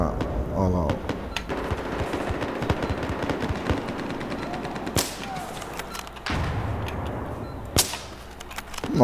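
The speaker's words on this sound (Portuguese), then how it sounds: "Nossa, que tiro foi esse?" Loud sharp L115 sniper rifle gunshots with thermal scope crack out several times amid ongoing Battlefield 4 game sounds, with a dense rattle of firing early on and distinct single shots later.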